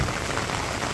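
Rain falls steadily on a Bangladeshi village during the rainy season, a dense, even hiss of drops on surfaces, fairly loud and close, with no talking.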